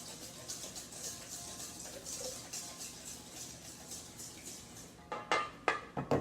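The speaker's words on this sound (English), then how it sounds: "And now I'm adding 4 large egg yolks. I don't want to be messy. We are on camera. And I'm whisking that in." Egg yolks whisked into pastry cream in a bowl, a quick steady rhythmic scratching whir that runs for several seconds, then gives way to a few louder close clinks of the whisk against the bowl.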